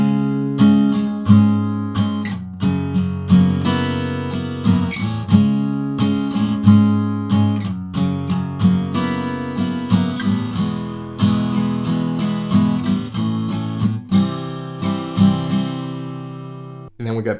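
An acoustic guitar strums the chorus chords of a song in an unplugged style, with steady rhythmic downstrokes and ringing chords played alone and up close.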